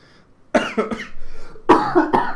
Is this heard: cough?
yes